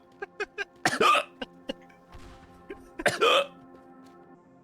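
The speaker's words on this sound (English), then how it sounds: "I kind of do have permanent hiccups because I can always give myself hiccups." A person hiccups repeatedly in short, sharp bursts at an uneven rhythm, with two longer vocal outbursts between them, all close and fairly loud.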